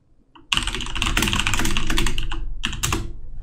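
Rapid clattering keystrokes on a computer keyboard, a dense close burst of typing with a brief pause before a final flurry.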